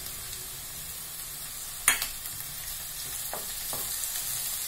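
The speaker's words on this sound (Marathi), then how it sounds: "हा कांदा थोडा भाजल्यावर त्याच्यामध्ये आपण टोमॅटो टाकणार आहोत." Onion fries in a pan with a soft, steady sizzle, close by, with one sharp clatter near the middle and a couple of lighter knocks later.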